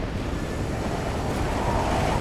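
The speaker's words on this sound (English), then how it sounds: "The wind is really blowing hard right there." Hard gusts of wind batter the microphone beside the Harrison River Bridge in British Columbia during a flipped-trailer recovery, a loud continuous roar that holds steady throughout with no talk.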